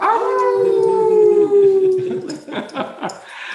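A dog howls in one long, rising and falling cry that is loud and close, then breaks into shorter whimpering yips toward the end, with singing and voices of a group retreat gathering faintly beneath.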